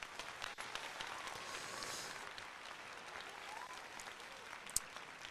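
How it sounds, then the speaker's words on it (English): Faint crowd applause at a live Phillies–Mets baseball game, a steady distant wash of clapping heard at low volume with a brief sharp knock near the end. "I'll give you a round of applause,"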